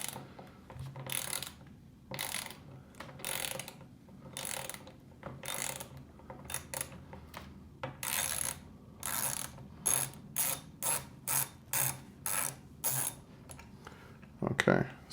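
Ratcheting socket wrench loosening factory steering wheel bolts held with thread locker, a run of rapid clicking bursts in short repeated strokes, close and fairly loud, with a louder clunk near the end.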